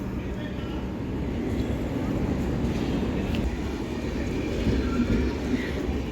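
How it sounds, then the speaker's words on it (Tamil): A Rameswaram–Tambaram express pulls out of a station platform with a steady, low rumble that holds for several seconds, while faint voices mingle in the background. "ஸோ ட்ரெயின் சென்னை கிளம்பிட்டு இருக்குது. சென்னை தாம்பரம்."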